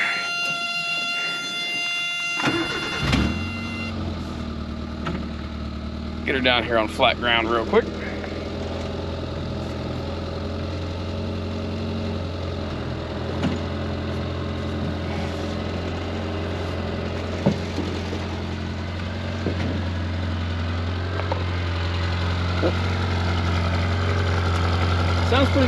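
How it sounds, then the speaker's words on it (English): A Suzuki Samurai fitted with an aftermarket exhaust cranks briefly and fires up, then settles into a steady, rumbling idle that runs on near and loud, while someone talks over it. "I didn't let people hear how the exhaust sounded in this thing after putting an exhaust video together"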